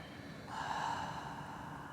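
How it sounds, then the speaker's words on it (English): Slow, deep breath pushed out through the nose during a guided breathing practice, a soft steady airy rush swelling midway and holding for over a second, close and quiet with no talking. "Take a deep breath. Exhale."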